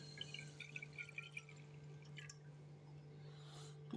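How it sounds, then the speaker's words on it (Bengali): A glass of water is poured into a frying pan set up for steaming caramel pudding. A soft, quiet trickle with light drips and splashes stays faint and close, with no talking. "এক গ্লাস পানি দিলাম,"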